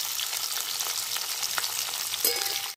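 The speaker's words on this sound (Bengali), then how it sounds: "এটা হালকা একটু ভাজা ভাজা করে নেব" Capsicum fries lightly in a kadai for a vegetarian paneer dish, giving a steady soft sizzle with occasional stirring scrapes, close and moderately quiet throughout.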